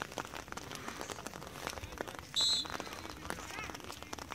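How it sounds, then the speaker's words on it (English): Rain patters steadily on a surface outdoors at a spring exhibition sports game, a dense crackle of drops with a brief louder burst midway, no clear talk. "Is it just me or is it raining harder now?"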